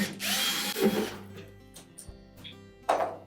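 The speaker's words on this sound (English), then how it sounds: "we'll remove the retaining screws for the old thermostat" A cordless power drill whirs briefly to back out the retaining screws on the control thermostat of a Whirlpool dryer, a short high whine followed by quieter clicks and a second short burst near the end.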